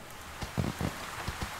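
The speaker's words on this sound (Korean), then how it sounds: "비가 오기 시작합니다." Rain falls in the city-building game Tropico 4, a soft steady hiss with scattered patters and a few faint drop-like knocks.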